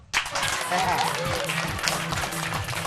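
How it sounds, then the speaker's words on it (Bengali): An audience claps at a performance event, a burst of applause that starts abruptly and carries on steadily at moderate volume, with voices audible over it. "দারুণ হয়েছে, এর জন্য একটা হাততালি হোক।"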